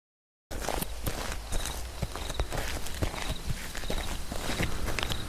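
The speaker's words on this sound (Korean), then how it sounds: "멀리서 들려온 발자국 소리에 잠이 깼습니다" Footsteps crunch steadily at night outside a tent at a free campsite in Japan, a dense run of irregular scuffing steps over a constant background hiss after a moment of silence.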